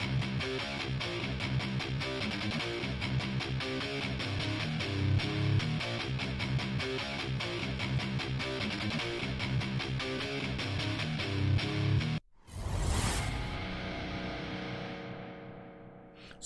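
A distorted death metal guitar riff sample, time-warped to 104 BPM, plays loud and dense for about twelve seconds, cuts out abruptly, then restarts with a burst of noise fading into sustained chugging.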